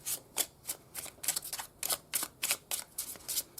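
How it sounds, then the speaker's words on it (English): A deck of tarot cards is shuffled by hand in close, crisp bursts, about a dozen quick riffling snaps in a fairly even rhythm, with no talking. "But let's do the shuffle for the clarifiers."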